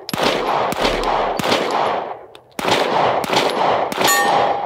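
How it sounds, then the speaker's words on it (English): Springfield Echelon pistol fired in rapid strings of loud, close shots, two quick groups separated by a short pause, with bright metallic rings from rounds striking steel targets near the end. "Do two to the body, one to the head, two to the body, one to the head, transition to steel."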